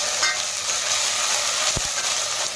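Ginger garlic paste fries with onions and curry leaves in hot oil: a constant loud sizzle with one brief utensil clack partway through.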